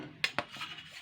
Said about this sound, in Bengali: দেখুন এখানে আমি হাফ চামচ আদা বাটা রসুন বাটা দিয়ে দিচ্ছি